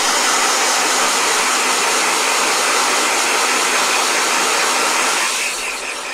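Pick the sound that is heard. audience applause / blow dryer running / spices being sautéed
blow dryer running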